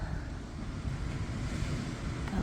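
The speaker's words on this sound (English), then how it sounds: "It's a little windy" Wind buffeting the microphone at a beach at sunset, with ocean surf washing in continuously behind it; a steady, fairly faint rushing roar with no voices.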